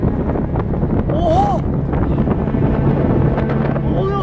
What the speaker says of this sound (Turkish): Rüzgar çok arttı